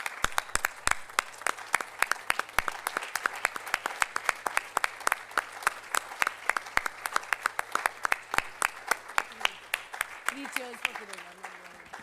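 An audience applauds at a hospital wing launch. Dense, continuous clapping holds steady throughout, and a voice briefly rises near the end.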